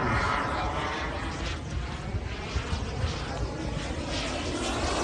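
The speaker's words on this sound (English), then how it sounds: "Don't mess with the turbine jets." A model turbine jet airplane flies at an air show, giving a loud, continuous roaring whoosh with slight swells as it passes fairly close across the field.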